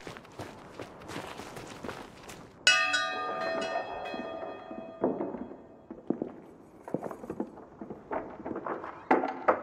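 A single bell strikes loudly in the video game Brothers: A Tale of Two Sons Remake and rings out with a long, shimmering decay over footsteps and light clatter.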